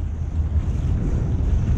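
Ocean kayak speeding through waves off Malibu, with steady rushing water and wind buffeting the microphone, continuous loud low-frequency roar throughout with no voices.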